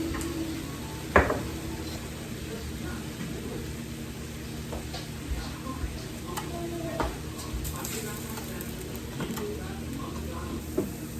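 Meat frying in a pan while a small utensil breaks it apart: faint sizzling under periodic clicks and taps of the tool against the pan, with a sharp knock near the start; a voice talks over it.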